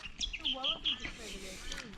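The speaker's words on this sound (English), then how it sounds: "Hear all the birds, you can hear the river flowing over there." Birds chirp and tweet at a riverside bush camp, several short high calls close by over soft background noise, with the river's flow faint underneath.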